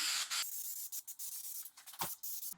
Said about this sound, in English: This is some spray adhesive that I'm using.